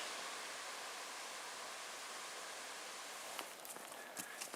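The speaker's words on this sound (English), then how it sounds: "Oh, the little river is beautiful." Steady broadband rush of a small river flowing beside a woodland trail near Lake Superior, continuous and fairly even, with a few faint footsteps or rustles near the end.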